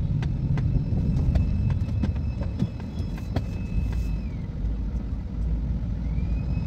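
Cars, bikes and other vehicles crawl through a crowded market street, giving a continuous low engine rumble with scattered horn toots and passing motors nearby.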